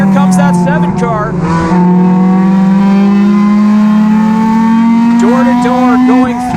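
Stock cars race side by side at Irwindale in a NASCAR Division III enduro, with loud, steady engine drone holding a rising pitch and tire noise, while a commentator talks throughout.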